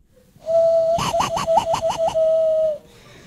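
A sustained whistled tone breaks into a quick series of about seven warbling, chirpy trills, a person imitating a swallow's call, loud and close.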